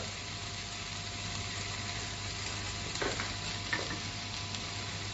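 Ground coriander, cumin and a little red chili powder frying in a pan for a turmeric fish curry, a steady low sizzle with a couple of soft stirring scrapes near the end, no talking.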